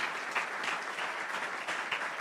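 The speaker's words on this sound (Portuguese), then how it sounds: "uma salva de palmas para todos eles." Soft, steady applause from an audience, sounding somewhat distant and even, with no voices over it.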